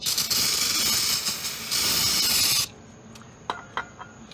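Cleaner sprays onto the crankshaft area of a Hyundai Accent engine as a loud, close hiss lasting about two and a half seconds. It then stops, leaving faint clicks and a thin residual tone.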